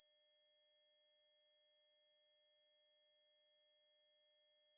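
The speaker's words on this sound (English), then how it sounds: "If you heard this high frequency sound" A steady, piercing high-pitched test tone holds unbroken at constant level throughout, alone and unwavering with no other sound.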